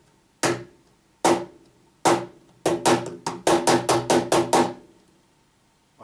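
Sharp percussive high slaps with the fingertips on a cajon, a few spaced hits then a quicker run of about ten, crisp and close.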